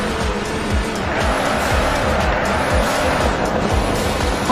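A car drifts in a demolition driving game, its engine droning steadily while repeated tire squeals and skids rise and fall close up throughout.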